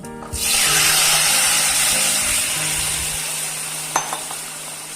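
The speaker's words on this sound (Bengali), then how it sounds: "ভাজা ভাজা হয়ে আসলে এর মধ্যে ঝোলটা ঢেলে দিচ্ছি" Broth poured into lentil fritters (jal bora) frying in a pan gives a loud, steady hiss and sizzle that settles slightly. A brief clatter sounds near the end.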